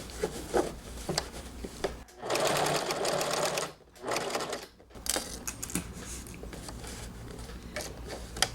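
A sewing machine stitches a bolero sleeve in several runs of fast, close mechanical whirring, separated by short pauses and lighter handling sounds, with a voice speaking between bursts.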